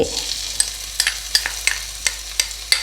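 Crisp sizzling and scraping as beef is stir-fried with garlic and pepper in a hot wok, with repeated rhythmic bursts as food is tossed and stirred, close and fairly loud.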